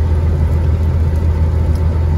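A loaded Freightliner FLD semi truck cruises along an Iowa road, its engine giving a steady low drone and rumble that stays even and unbroken throughout.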